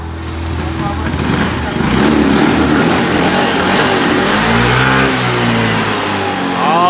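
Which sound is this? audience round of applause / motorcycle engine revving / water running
motorcycle engine revving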